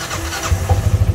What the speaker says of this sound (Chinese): 我启动引擎哈